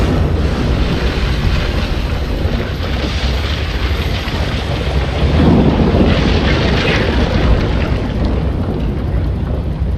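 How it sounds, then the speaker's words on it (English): A building collapses in the RoboCop Rogue City video game: a loud, sustained roaring rumble of crumbling debris with wind-like noise fills the whole stretch, swelling slightly midway. "When the building collapses, the dust cloud will choke the engine."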